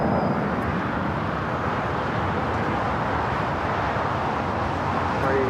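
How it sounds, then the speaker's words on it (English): A Boeing 737-800 airliner rolls down runway 25 Right at LAX, a steady broadband roar of jet engines heard from a distance, constant throughout with faint wind. "It's a 737-800. Now rolling down that 25 right."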